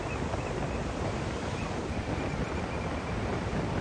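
Ocean surf breaks along a beach under steady wind, a dense, continuous roar of waves and wind buffeting the microphone at constant loudness throughout, with no voices.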